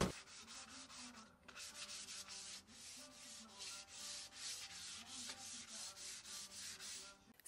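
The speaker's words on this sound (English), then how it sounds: "I am going to sand all the pieces with this 220 grit sandpaper" Kitchen cabinet pieces being sanded by hand with 220 grit sandpaper: steady, rhythmic rubbing strokes, close and quiet, repeating evenly with no talking.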